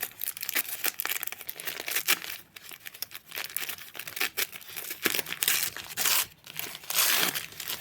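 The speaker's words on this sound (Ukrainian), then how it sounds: "Якщо ми зірвемо цей папірець" Paper label being torn and crinkled off yarn skein packaging from the Zhytomyr factory, with close, loud rustling and ripping bursts throughout and no talking.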